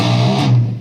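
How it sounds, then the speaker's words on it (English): Distorted electric guitar note, its string bent upward rather than released, one loud close sustained tone that fades out near the end. "you're actually bending up instead of bending back."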